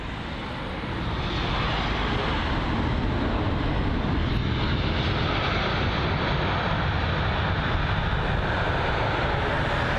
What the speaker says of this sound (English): is the British Airways A380 on departure from London Heathrow, runway 27 left, heading to Boston.